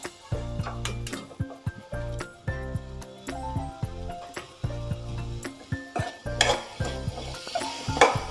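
Peanut masala mixture stirred in a pan with a spoon: rhythmic metallic scrapes and clinks repeating about every half second, close and clear over a faint sizzle, with no talk.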